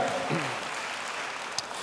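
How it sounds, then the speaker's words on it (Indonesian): Church congregation applauds in a dense, even wash of clapping, moderately faint and continuous, with a brief voice at the start and a sharp click near the end. "Beri tepuk tangan yang baik bagi dia."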